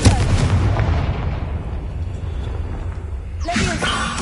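The Confringo fire spell is cast in Hogwarts Legacy, bursting in a loud booming explosion with rumbling debris at the start, then a quieter stretch before another sharp blast near the end.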